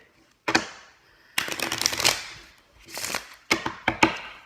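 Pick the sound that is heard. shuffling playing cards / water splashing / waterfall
shuffling playing cards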